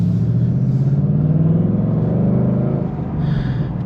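A 2025 Ford Mustang Dark Horse with a six-speed manual and short shifter pulls hard, its engine a loud, close, deep rumbling growl that rises steadily and then eases off near the end.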